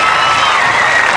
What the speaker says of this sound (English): Crowd saluting that effort